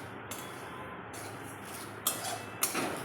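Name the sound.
stirring whole coriander seeds in a dry pan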